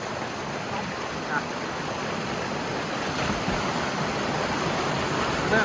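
Water rushes steadily through a hidden natural pool in Sri Lanka during rain, a constant broadband roar close by with faint voices beneath.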